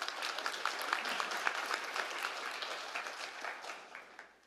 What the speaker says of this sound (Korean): 박수를 보내주시기 바랍니다